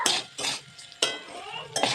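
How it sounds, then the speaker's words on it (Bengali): A spoon scrapes and clinks against a pan in four short bursts as rice is stirred and fried on a low flame, close and fairly quiet, with a faint sizzle between strokes. "চালটা আমি 3 থেকে 4 মিনিট লো ফ্লেমে ভাজবো"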